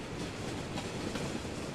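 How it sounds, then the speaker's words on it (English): Tram rolling past in the city-building game Cities: Skylines, a dense steady rumble of wheels on rails lasting the whole short moment at even, fairly loud level. "Here comes our first tram."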